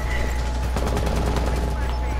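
Rapid bursts of gunshots in a video game, loud and steady across the moment, with speech faintly present underneath.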